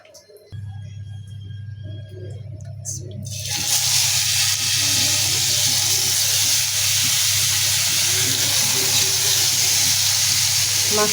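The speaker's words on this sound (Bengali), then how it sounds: "মাছ ভাজার জন্য আমি তেলটা কম দিচ্ছি, কারণ এই পাঙ্গাস মাছে এমনি তেল আছে।" Pangas fish seasoned with turmeric and salt hitting hot oil in a pan, a quiet background hum giving way to a loud, steady sizzle that continues without a break and with no talk over it.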